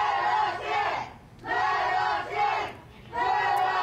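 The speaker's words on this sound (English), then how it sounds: "The large crowd of pro-Trump protesters gathered, demanding poll workers keep counting the votes" A large crowd of pro-Trump protesters outside the Maricopa County Recorder's Office in Phoenix, Arizona, chants in rhythmic bursts, three loud shouted phrases separated by short pauses, heard from nearby.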